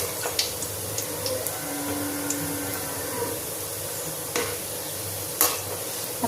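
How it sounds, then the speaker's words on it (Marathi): Coconut snack frying in oil over a very low flame, giving a steady soft sizzle with occasional light scrapes and clicks as pieces are turned, continuous and fairly close with no talking. "एकदम कमी गॅसमध्ये पलटून असे तळायचे आता हे तळत असताना थोडासा जास्त वेळ लागतो"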